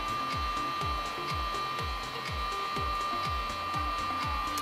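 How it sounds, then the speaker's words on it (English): Heat gun blowing hot air onto an aluminium wheel in freezing cold for spray painting: a constant loud whooshing fan roar with a steady high whine, accompanied by a regular rapid series of low thumps throughout. "the only tool at our disposal today is the heat gun"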